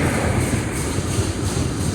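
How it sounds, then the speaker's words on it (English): A CSX freight locomotive creeps along at low power, its engine idling with a steady low rumble and rail noise, continuous and fairly close. "And the engine sound like it was idling"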